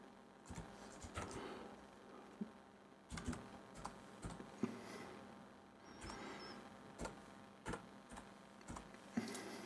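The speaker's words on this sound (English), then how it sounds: "So you type that in exactly the same way." Keys clatter on a computer keyboard as a version number is typed into a config file on the Haiku operating system, in irregular bursts of quiet close clicks with short pauses between them, and no one speaks.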